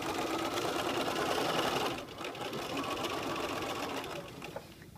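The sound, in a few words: sewing machine stitching a lapped zipper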